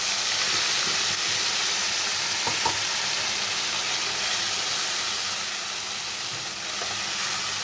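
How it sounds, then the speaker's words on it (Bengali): Spice paste sizzles and fries steadily with lightly fried potatoes, salt and turmeric in a hot pan, a continuous close hiss with faint stirring scrapes and no talking. "মশলাটা খুব ভালো করে কষাতে হবে যেন কাঁচা গন্ধ না ছাড়ে।"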